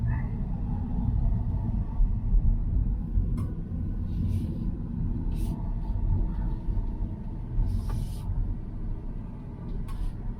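A Tesla Model Y driving forward, heard from inside the cabin as a steady low rumble of road and motion noise. A few faint high clicks and chimes sound briefly, and there is no talk.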